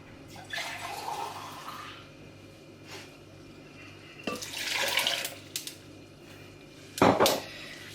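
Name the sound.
water pouring into a glass for a smoothie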